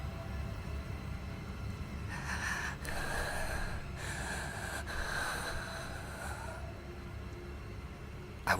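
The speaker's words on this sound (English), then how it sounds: "I woke up to the sound of heavy breathing." Heavy, ragged breathing with gasping, snorting inhales and exhales, repeated in several close breaths over a low rumbling background.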